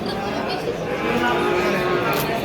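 A cow at a livestock market gives a long, low moo amid the busy hubbub of the bazaar, with people talking around it.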